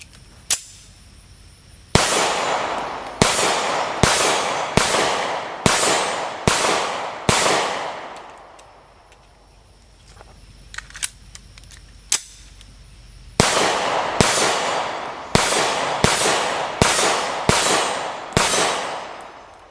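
A Remington R51 Gen 2 pistol fired one-handed: a first shot, then a rapid string of loud, sharp reports, a pause with faint clinks, then another quick series of shots.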